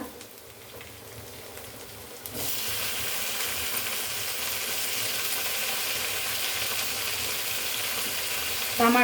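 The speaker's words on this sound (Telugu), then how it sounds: "ఇప్పుడు టమాటా వేసేసుకుందామండి." Chopped tomatoes drop into a hot pan and burst into a loud, steady sizzle that stays up close and continuous after a quieter start, with faint stirring noises and no talking.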